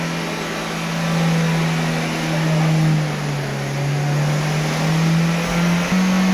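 1948 Plymouth car having its front brakes tested at an inspection station, a loud steady mechanical hum with a droning tone that shifts slightly in pitch, ending with a short thump.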